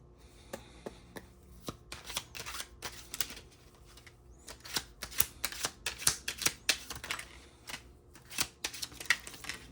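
A deck of cards is shuffled during a card reading, a soft run of quick, crisp riffling clicks with no talking over it.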